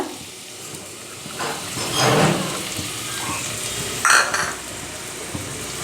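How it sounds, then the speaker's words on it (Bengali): Finely chopped onions drop into hot oil for chicken keema puri and sizzle steadily, with louder bursts of frying and stirring swelling twice before settling. "দিয়ে দিলাম তেলের ওপরে পেঁয়াজটা"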